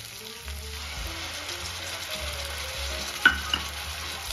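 Tomato paste sizzles and fries in a pan for a restaurant-style paneer masala, with a steady hiss, soft stirring scrapes and a couple of sharper spatter pops near the end.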